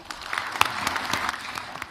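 Applause from an audience of about 130 business leaders welcoming Korea Chamber of Commerce and Industry chairman Park Yong-maan as he takes the stage at a forum with the president; a steady, dense patter of many hands with a few sharper claps standing out.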